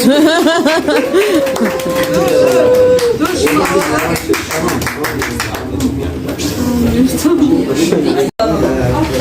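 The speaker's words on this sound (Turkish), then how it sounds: "Alkış." Family and guests clapping at an engagement celebration, with steady applause running under loud chatter, laughter and close talking throughout.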